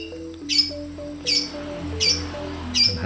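A caged orange-headed thrush (anis merah), recently sunned, gives four short, loud, harsh calls at roughly even intervals over a steady low background hum.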